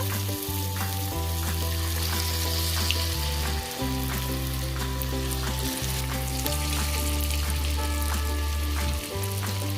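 Crab pakora fritters sizzle steadily in hot oil, a dense continuous crackle with brief pauses and a low background hum, close and loud throughout.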